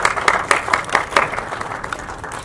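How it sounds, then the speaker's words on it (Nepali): A crowd at a music video launch event gives warm applause, brisk overlapping claps with rhythmic pulses that soften toward the end. "यो टिमलाई एकचोटि सम्मान स्वरूप जोरदार ताली"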